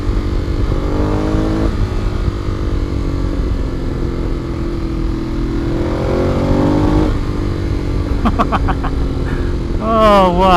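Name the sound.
Ducati Monster 821 motorcycle engine accelerating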